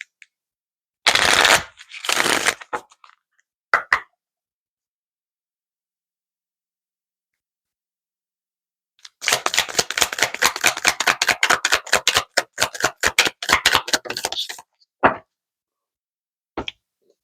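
A deck of oracle cards is riffled and shuffled in quick crisp bursts, first a few short flurries, then a long rapid run of slapping flicks, with silent gaps between, close and clear.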